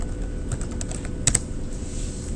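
Quick taps on a computer keyboard, a short run of light, close keystrokes with a brief cluster of sharper clicks in the middle, no voice heard.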